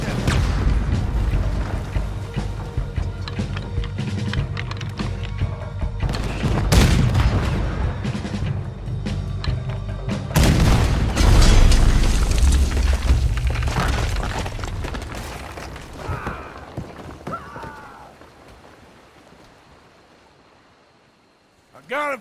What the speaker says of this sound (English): Use the cannon on them!